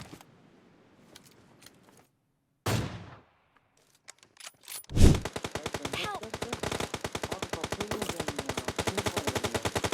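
Video game gunfire in PUBG Mobile comes after a few quiet knocks and a sudden thump: a rapid, continuous automatic burst of evenly spaced shots that carries on loudly to the end.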